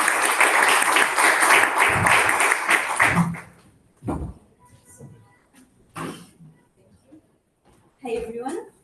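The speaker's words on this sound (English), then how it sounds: "Please give her a round of applause." At a Toastmasters club meeting, an audience gives a guest a dense burst of applause for about three seconds. It then fades into quieter room sounds, with short bits of speech afterward.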